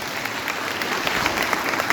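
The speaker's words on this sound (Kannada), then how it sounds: "ಒಂದ್ಸಲಿ ಮಕ್ಕಳಿಗೆ ಜೋರಾಗಿ ಚಪ್ಪಾಳೆ ಹೊಡಿಲೇಬೇಕು" Dense, steady applause from an audience at a children's dance celebration in Dandeli, loud and continuous for the full two seconds with no voices over it.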